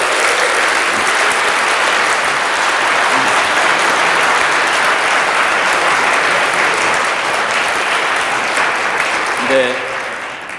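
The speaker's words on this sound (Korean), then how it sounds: "우리 모두를 위해서 이 시간 함께 박수를 보내도록 하겠습니다." A congregation at a Christmas Eve church concert applauds loudly in a thick, sustained roar of clapping that carries on for several seconds before thinning out at the close, with a few voices beneath it.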